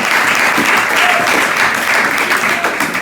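A church congregation applauds and acclaims God, loud continuous clapping and cheering voices blending into a steady, full roar that holds for the whole stretch.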